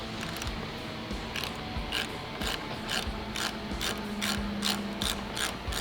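A hand ratchet turning a socket while rebuilding a 39mm fork on a 1999–2005 Harley-Davidson Dyna, giving a series of quick, close clicking bursts in a regular rhythm over a low background hum.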